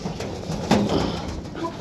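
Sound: pigeons cooing

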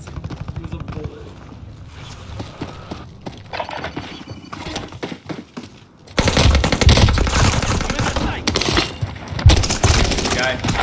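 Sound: gunfire in a battle royale video game

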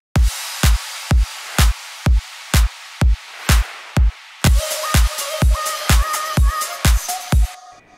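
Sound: future house drums playing together, FL Studio

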